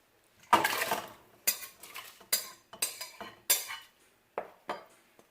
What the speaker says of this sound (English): Just gonna stir in everything.